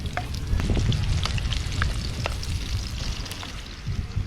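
Ginger and garlic sauté in a pan for a crab dish cooked outdoors by the shore, giving a steady close sizzle and crackle of hot oil with a few small pops and stirring sounds throughout.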